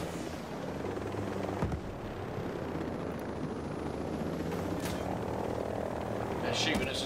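Helicopter in the video game Ghost Recon Breakpoint, a steady rotor and engine drone running throughout under ongoing talk and game noise, with a brief sharp burst near the end.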